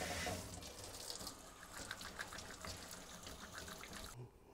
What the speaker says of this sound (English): And I got to wash my hands again.